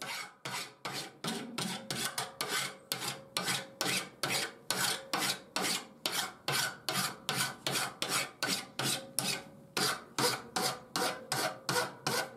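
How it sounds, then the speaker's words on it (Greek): A hand file rasps steel while shaping a hunting knife made from an old file, in steady, close push strokes of roughly two per second that continue evenly throughout, with no talking. "μπορούμε να το επεξεργαστούμε εύκολα ακόμα και με λίμα"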